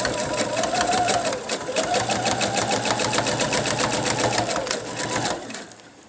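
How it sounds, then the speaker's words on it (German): Sewing machine running steadily at close range while edge-stitching a pocket on a child's apron about 3 mm from the edge, a dense continuous whir of rapid needle strokes that slows and stops near the end. "Wir nähen die Tasche nun ganz knappkantig, ca. 3 mm. vom Rand fest."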